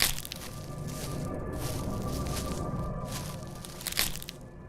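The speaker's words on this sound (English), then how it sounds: "That's when I heard the crunch of dry leaves outside." Dry leaves crunching outside a house in a horror story setting, a series of crisp rustling crackles in irregular bursts, moderately close, with a sharper crunch near the end.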